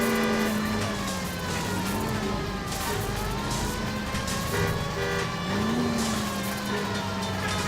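A car engine revs steadily during a police pursuit of a stolen streetcar in the video game L.A. Noire, a continuous droning motor whose pitch swells and dips slightly, with no talk over it.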